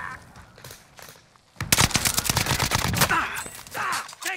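Automatic gunfire in the video game Warzone, a close, dense fusillade of rapid shots crackling for a couple of seconds, with scattered voices and game noise around it.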